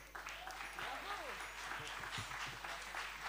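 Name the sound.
audience applause for the orchestra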